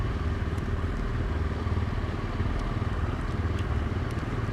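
Group ride of motorcycles including a KTM 690, BMW 1200 GS, BMW GSA and a Kawasaki, heard as a steady low engine drone with road and wind rumble, continuous and fairly close.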